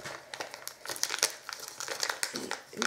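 Crinkly wrapping and tape are peeled and crumpled off a well-wrapped parcel in quick, irregular rustling bursts, close and fairly quiet.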